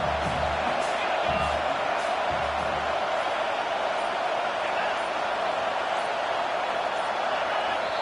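A football stadium crowd at a Huskers game on a fourth-down play, a dense, steady roar of many voices filling the space, with a few low thuds early on and no clear single speaker.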